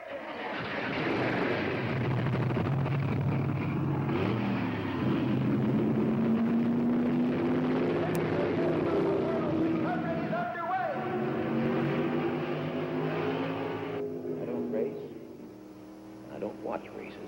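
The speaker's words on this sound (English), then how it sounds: "Gentlemen, start your engine!" NASCAR stock car engines start and rev before a race, a loud, sustained, droning rumble with shifting pitch that swells and then fades near the end.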